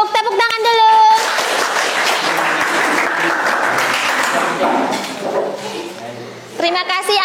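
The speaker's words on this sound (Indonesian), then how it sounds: "Tepuk tangan dulu." Steady classroom applause from students during a teacher training session, loud and continuous for several seconds, framed by a speaking voice at the start and end.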